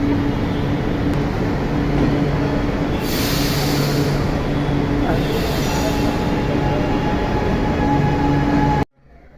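A Chennai metro train rumbles steadily with a loud, continuous roar, faint squealing tones over the wheels, then the noise cuts off abruptly near the end.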